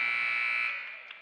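Basketball arena buzzer at the end of the third quarter in a high school game, one loud sustained electronic tone that fades away within about a second.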